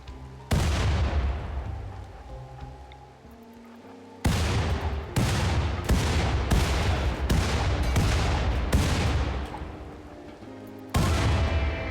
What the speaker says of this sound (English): Jet blindly lobbed the grenades, hoping the explosions would eventually damage the remaining structures enough to shut them down